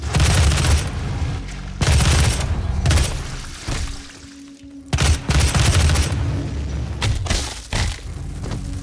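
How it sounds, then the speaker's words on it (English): Rifle gunfire from the video game DOOM rattles in long, loud sustained bursts, broken by short pauses and a dull booming impact, close and with no talking. "This rifle is really strong."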